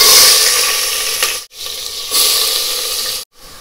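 Onions sizzle and fry loudly in a hot pan, a steady close hiss with brief cut-off gaps, and no one speaking over it.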